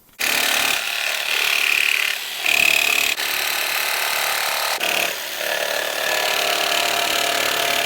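Power saw with a fine-toothed blade cutting a plastic guitar body at reduced speed, a steady close, bright whining rasp throughout with short dips and shifts in pitch as the cut progresses.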